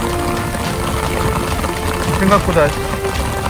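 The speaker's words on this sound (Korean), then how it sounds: "심한 비가 내립니다." Heavy, near-typhoon rain pours down at a fishing spot in a steady, dense roar, while a voice speaks briefly underneath.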